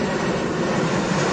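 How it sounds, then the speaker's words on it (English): A steady, loud engine drone fills the whole moment, like a large military propeller aircraft roaring past close by, with no talk. "Army plane."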